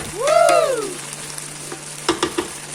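Chicken wings with okra fry in a pan with a soft sizzle, under a brief rising whistle-like tone and a few light clinks of stirring.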